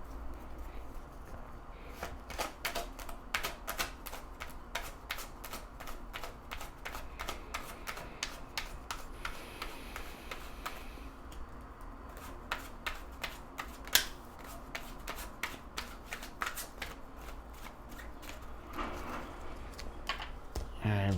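Tarot cards are shuffled by hand in a long run of rapid, crisp riffling flicks, close and steady under faint background room tone.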